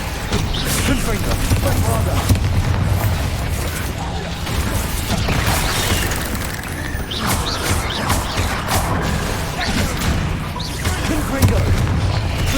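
Confringo and Bombarda spells blast during combat in Hogwarts Legacy, with repeated booms and crashes over a busy, continuous battle din, and voices heard among the effects.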